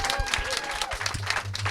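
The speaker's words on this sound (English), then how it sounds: "Can we have a last round of applause," Audience applause for comedian Sindhu Vee at the close of a live comedy interview show, a steady wash of clapping with some crowd noise underneath throughout.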